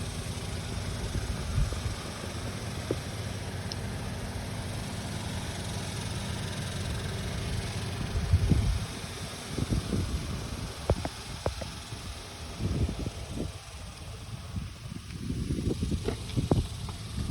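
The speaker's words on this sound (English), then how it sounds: "The vehicle is running." A 2014 Toyota Camry idles with a steady low rumbling hum that holds evenly throughout, joined later by a few scattered soft knocks and clicks nearby.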